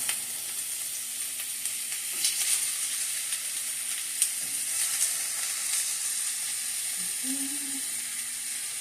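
Lean turkey patties frying and browning in a pan, giving a steady, close sizzle and hiss throughout, with a few faint clinks and stirring noises but no talking.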